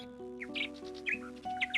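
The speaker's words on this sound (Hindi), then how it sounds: "हर रोज सूरज उगने से पहले चिड़ियों की चहचहाहट के साथ भोला उठ जाता था।" Birds chirp at dawn over a quiet village in a story scene: short, bright chirps come in small bursts above a steady, sustained musical drone.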